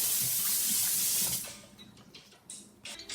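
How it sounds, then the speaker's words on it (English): Tap water runs hard into a kitchen sink as hands are rinsed before seasoning chicken, a steady loud splash that breaks into softer, uneven trickles and spatters. "Wash my hands."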